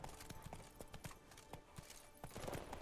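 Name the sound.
horse Roach's hoofbeats in The Witcher 3 video game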